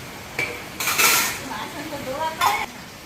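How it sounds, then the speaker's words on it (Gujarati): Dishes, pots and utensils being washed by hand at home, with irregular metallic clinks and clatters and scraping knocks at close range over a low background hiss. "વાસણ ધોવે છે."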